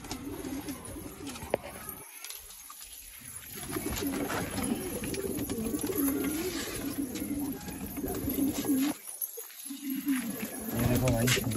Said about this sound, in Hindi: आपको अपने कबूतर दिखाने जा रहे हैं।